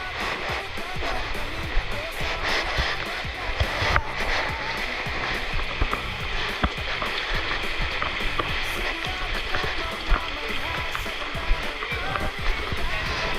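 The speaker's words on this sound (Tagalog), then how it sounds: "Lakas ng agos." A strong flood current rushes steadily and loudly, a dense unbroken roar of water with faint voices mixed in.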